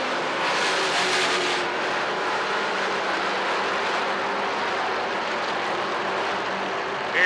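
Race cars of the American Canadian Tour coming off turn four at Thompson Speedway late in a 75-lap race, a sustained engine roar from a pack at moderate distance that swells briefly and then holds steady.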